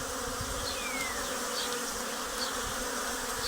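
Honeybees fly around their hives on a warm, lightly breezy day, a steady close buzzing drone that never breaks, with an occasional single bee passing nearer.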